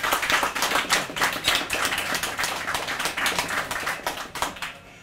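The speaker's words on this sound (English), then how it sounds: "So let's have a round of applause to Robert Frost Foundation." Poetry night audience giving a round of applause, many hands clapping in a dense, lively burst that holds steady for several seconds and then fades.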